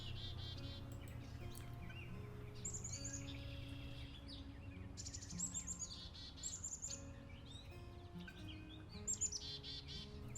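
A Blackburnian warbler sings at Creeks Meadows in Wisconsin, giving thin, very high-pitched song phrases in repeated bursts over a soft bed of other birds and insects, with no voices.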